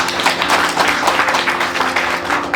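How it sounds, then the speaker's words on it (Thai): Applause and clapping from an audience at a gathering for the chairman, a steady dense patter that stays fairly loud and unbroken throughout. "ขอเสียงปรบมือท่านประธานด้วยครับ"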